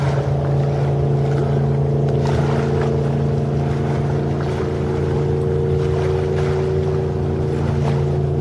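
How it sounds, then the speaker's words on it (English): A fast motorboat engine drones loudly and steadily with a constant hum on a bay, accompanied by rushing water and wind, with no voices. "You may hear a pretty fast boat out here if you can hear that."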